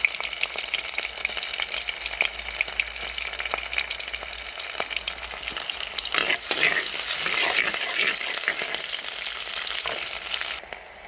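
Ginger and green chillies fry in hot oil in a pan with a steady sizzle, punctuated by scraping stirs and clicks, close and moderately loud.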